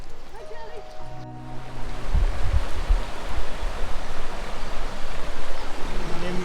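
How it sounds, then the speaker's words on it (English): A mountain stream rushes over small waterfalls in Spain, a steady broadband wash of water that swells after a brief quieter opening where a voice speaks. "Lots of water in the stream, loads of pretty little waterfalls."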